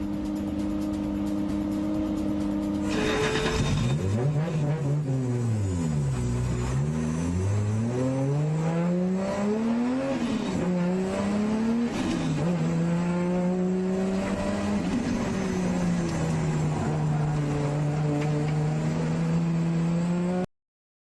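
A 25-year-old D1 drift car driven hard on its home track at Mizunami, heard from an in-car camera in the back: loud steady engine drone that revs up and down in repeated sweeps, with tire squeal under it.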